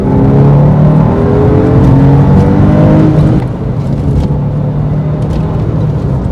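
A Porsche 911 with a stock exhaust accelerates from a rolling start in second gear, its engine droning loudly and steadily from inside the car before easing back to a lower hum.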